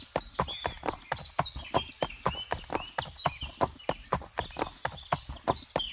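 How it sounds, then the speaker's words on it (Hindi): A woodcutter's horse clip-clops along steadily as he leads it on foot, the hooves striking in a quick, even rhythm of sharp, close knocks that continue throughout with no talk. "लकड़हारा बंसीराम अपने घोड़े को लेकर धनी के पीछे चल"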